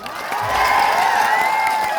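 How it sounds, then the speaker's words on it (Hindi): A crowd at a rally on World Tribal Day claps and cheers, a loud burst of massed voices and hands that swells quickly and holds steady. "इसलिए अपने लिए जोरदार ताली बजाओ।"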